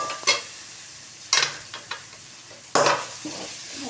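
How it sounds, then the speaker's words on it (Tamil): Fried rice being stirred in a pan, with a quiet sizzle broken by three sharp scraping strokes of the spatula and a few lighter taps, close by. "நல்லா கிளறி விடணுங்க."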